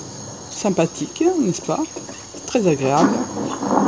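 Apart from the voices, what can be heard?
crickets chirping at night in the video game Skyrim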